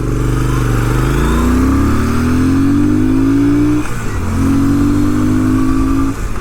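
A 2006 Triumph Scrambler 900 motorcycle accelerating hard, its engine note rising through a gear, dipping briefly at a shift, then climbing again, loud and close.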